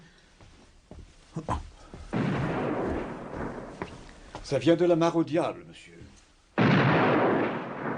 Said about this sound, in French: Il tire au canon pour faire remonter le corps de l'homme qui s'est noyé.